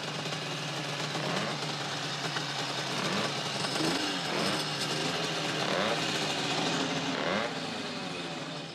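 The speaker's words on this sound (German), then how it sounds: "Die hochdrehenden Motoren machen zwar einen Höllenlärm, aber auch da gibt's Grenzen." High-revving racing engines blare loudly and steadily, their pitch rising and falling in repeated revving surges without a pause.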